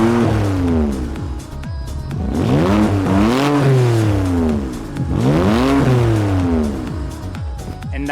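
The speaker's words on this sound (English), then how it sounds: "so these are going to be the Comfort revs." A BMW F80 M3 Competition in Comfort mode revs repeatedly, its engine note sweeping up and falling back in two or three strong, close blips with a throaty exhaust between them.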